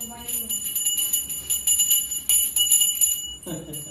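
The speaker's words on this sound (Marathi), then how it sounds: "घंटी वाजव. नारळावरती घंटी वाजव." A small hand bell rings repeatedly over a coconut during a Konkan Gauri puja ritual, bright sustained high tinkling with a quick rhythmic pulse, close and fairly loud, as a voice speaks briefly near the end.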